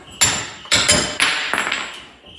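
Metal hammer blows strike a fresh weld on a 1931 Ford in a garage, four sharp ringing clangs spaced irregularly, the last a quick rattling double hit, loud and close with no talk.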